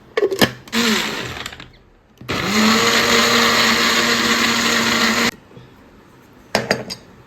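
An electric blender grinds a shawarma sauce of lemon, salt and oil in two loud, close bursts: a short whirring run, a pause, then a longer steady three-second spin, with faint clicks around them.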